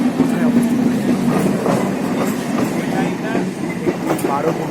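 A 12-coach Indian Railways train running from Krishnanagar to Shantipur rumbles steadily past a rail crossing, with continuous loud wheel and carriage noise and a rhythmic clickety-clack throughout.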